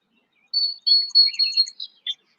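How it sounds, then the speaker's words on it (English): Several birds chirp and tweet outdoors in a quick run of high, bright calls, clear and fairly close, with short pauses and no other sound beneath them. "I hear birds."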